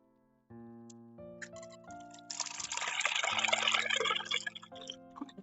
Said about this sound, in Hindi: ठंडा पानी आ रहा है